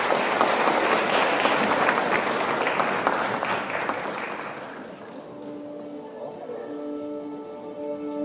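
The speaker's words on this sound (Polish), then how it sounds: "Przywitajmy ją gorącymi brawami." Audience applause for a sand-art show at the ICE Kraków wedding fair: a dense, loud burst of clapping that gradually thins and fades after about five seconds, leaving a quieter room with faint tones.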